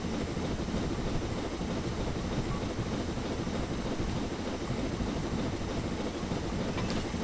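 A steam locomotive, a Black 5, runs in the Train Sim 2020 video game, giving a steady rumbling roar with faint rhythmic clatter that holds at an even level throughout, with no talking.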